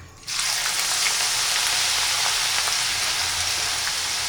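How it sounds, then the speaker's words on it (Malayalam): Sliced onions deep frying in hot oil for chicken chukka give a loud, dense, steady sizzle that bursts in abruptly and holds evenly close up, with no talking. "ഇനി നമുക്ക് എടുത്തു വെച്ചിരിക്കുന്ന ബാക്കി സവാള കൂടി വറുത്തെടുക്കാം"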